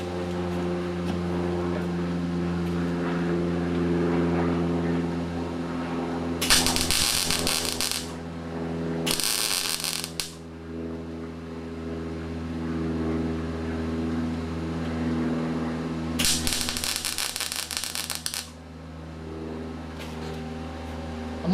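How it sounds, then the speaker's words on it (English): A Lincoln MIG welder running CO2 on its second heat range fills an antenna hole in thick car fender metal: three short bursts of harsh arc crackle cut through a steady electrical hum. "Now I'm going to be using this MIG Welder set on the second heat range, big. I'm using a Lincoln MIG Welder with"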